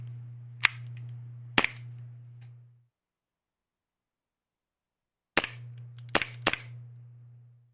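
A green gas airsoft pistol fires five sharp cracks, two close together early on and a tight cluster of three later, over a steady low hum that drops out to silence between the groups.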